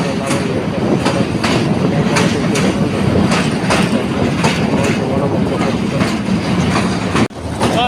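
The Mahanagar Provati Express runs from Dhaka to Comilla with a loud, steady rumble of rolling wheels and regular clickety-clack beats over the rail joints, heard from inside the carriage. Faint voices sit underneath.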